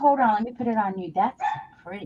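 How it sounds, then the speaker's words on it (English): Dogs bark and yip in short repeated bursts indoors, mixed with a person talking nearby. "Sorry for the dogs, guys."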